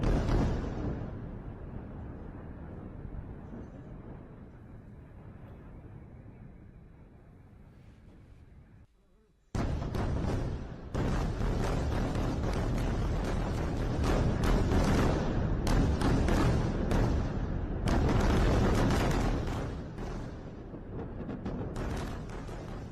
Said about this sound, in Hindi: धमाकों की आवाज सुनाई दे रही है